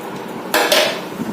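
Ice pieces dropped into a glass of aam panna, a mango and mint drink, giving a sudden bright clatter and clink midway, close and loud, after a quiet start.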